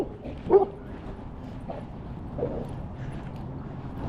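Dogs at a busy dog park, including poodles and huskies, let out a few short yips and barks at moderate distance over faint outdoor background noise, with scattered soft vocal sounds.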